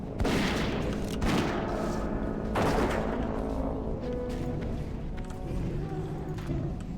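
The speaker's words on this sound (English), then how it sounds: "I'm gonna use rapid fire on the next one." Rapid volleys of ranged weapon shots from a Dwarf Hunter in World of Warcraft Classic, crackling in quick succession with a few sharper impacts standing out above a steady bed of game sound.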